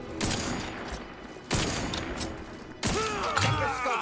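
Sniper rifle gunfire in The Outer Worlds 2, heard as three loud, sharp shots spaced about a second and a half apart, each followed by a reverberant tail and some mechanical rattle.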